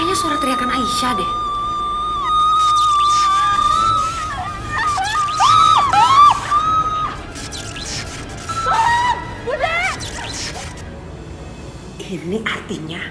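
A woman screams in long, piercing wails, rising and breaking, with commotion and other voices around her.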